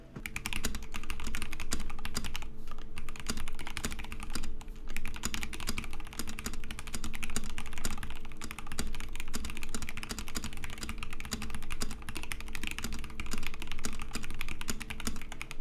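Mechanical keyboard typing on an Epomaker TH66 with lubed Epsilon switches, a fast continuous stream of close, crisp key clacks with brief pauses, no voices.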